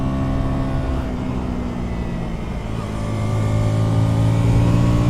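A KTM Duke 160 motorcycle engine revs while climbing uphill, a steady droning note that rises and grows louder toward the end, heard alone.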